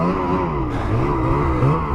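Motorcycle engine running with rising and falling revs, a loud close buzzing drone with shifting pitch that never drops to idle, heard alone without talk.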